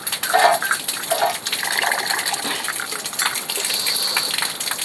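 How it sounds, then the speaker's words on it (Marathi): Steady rushing gush of water overflowing from a filled tank and pouring down, loud and close, continuous throughout with slight surges. "आता भरले टाकी ठीक आहे पाणी खाली यायला लागले आहे"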